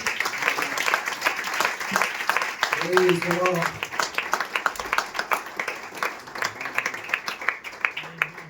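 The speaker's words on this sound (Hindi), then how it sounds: "स्तुति की तालियां दें" A church congregation claps in praise during a sermon, dense sustained clapping filling the room for several seconds, with a few voices calling out over it.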